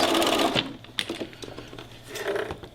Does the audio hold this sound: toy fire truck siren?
no